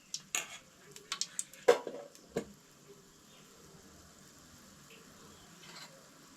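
A spoon stirs besan batter in a bowl for a Goan Shravan veg thali, giving a few light clinks and scrapes at the start before the stirring fades into a low steady background.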